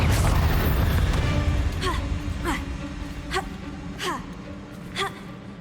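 Several separate booming blasts from the Confringo spell in Hogwarts Legacy, spaced about a second apart against a rumbling game background, following a loud opening rush of noise.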